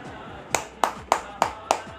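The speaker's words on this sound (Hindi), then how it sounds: "सबसे पहले अलीपुर के लिए और अपने लिए जोरदार तालियां बजाएं सब।" A group claps in unison at a community meeting in Alipur, with five sharp, evenly spaced claps about a third of a second apart, close and moderately loud over a faint background murmur.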